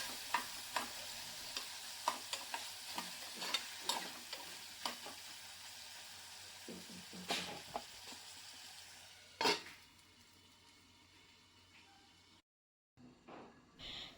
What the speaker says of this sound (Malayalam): തക്കാളി ഇട്ട് അത് വഴറ്റുക